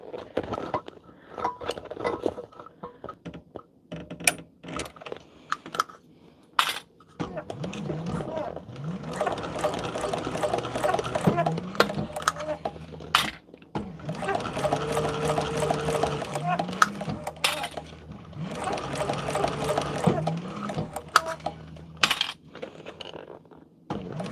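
A cylinder arm sewing machine stitches a bag in several rapid, whirring runs separated by pauses, with light clicks and handling noises between runs and a voice talking over parts of it.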